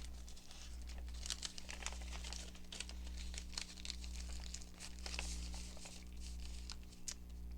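Paper folded and creased into a tucked pocket for a junk journal, soft crinkling and rustling with scattered crisp taps, close up over a persistent low hum.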